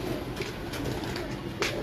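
Jonsare pigeons cooing softly in a hobbyist's loft, low gentle coos repeating under faint background noise.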